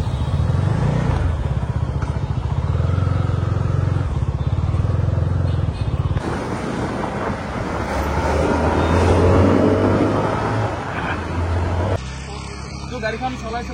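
A motorcycle is ridden on the road, its engine droning loudly and steadily with shifting pitch and wind buffeting. A voice talks over it throughout.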